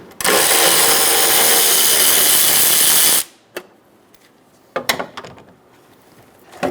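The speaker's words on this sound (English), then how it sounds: "Remove the two 10mm bolts for the intake." A power tool spinning out the 10mm intake bolts on a 2011-2014 Hyundai Sonata 2.4L four-cylinder, a loud close whir lasting about three seconds, then scattered clicks and clatter of parts.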